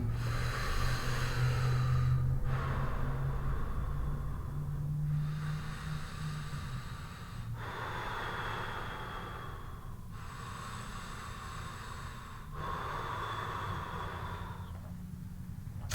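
Slow, deep breaths close to the microphone, long airy inhales and exhales alternating in a steady rhythm, with no talking.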